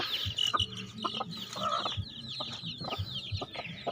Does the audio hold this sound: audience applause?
no